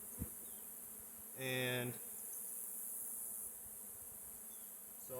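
Honeybees hum faintly around a sick, mite-ridden hive being tended in mid-October, a soft continuous drone with one brief louder buzz near the microphone, and a single spoken word briefly heard.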